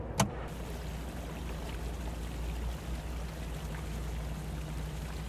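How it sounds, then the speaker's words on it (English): Water and waste draining out of an RV black tank, a steady hissing, rushing flow with a low continuous hum underneath, preceded by a single sharp click at the start. "We can go ahead and open our black tank and drain it out."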